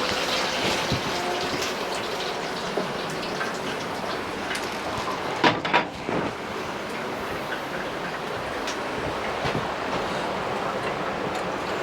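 Water steadily poured to wet and warm a filter for maple sap before making syrup, a continuous trickling splash that holds at an even level throughout with a few small knocks.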